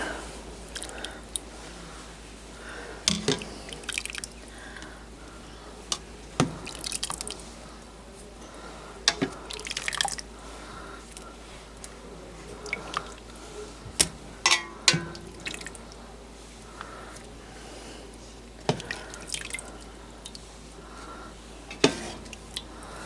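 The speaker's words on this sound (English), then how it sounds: "I'm going to take my sweet potatoes out and put them on my plate" Boiled sweet potatoes lifted from their cooking water onto a plate, heard as soft wet squishes and drips with a few sharper clinks of utensil against plate scattered through a quiet kitchen background.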